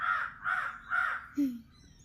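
Several crows caw on Eid day: three evenly spaced, fairly close caws and then a shorter lower call, over faint background hum.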